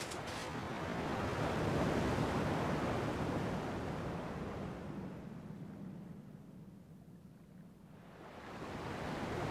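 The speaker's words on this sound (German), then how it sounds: "Zumindest klingen die Wellen noch wie früher." Ocean waves in the video game Kingdom Hearts II: a steady, broad wash of surf that swells, eases off in the middle, then builds again, with no voices over it.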